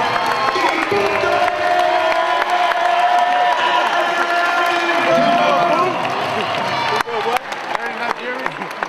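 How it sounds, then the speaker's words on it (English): A stadium crowd applauds and cheers on senior day at a North Carolina Central University game against South Carolina State. Steady loud clapping and whoops run throughout, with a public-address voice and nearby voices mixed in. "let's give an NCCU round of applause"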